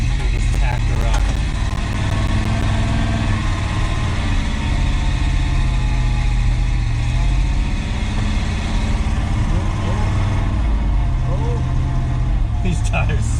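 A 1973 Ford F-250 pickup with a worn carburetor idles on a cold start in snow, a steady loud low rumble running throughout with brief clicks near the start and end.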